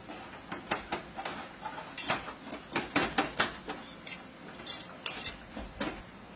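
A utensil folds whipped cream into chocolate mousse in a bowl, making a string of soft, irregular clinks and scrapes that come close and fairly clearly, with no talking.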